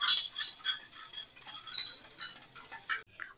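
A spoon mixes gourd papad mixture with cumin and salt in a bowl, giving a quick run of light, close clinks and taps in an uneven rhythm, then a short pause before one last faint tap.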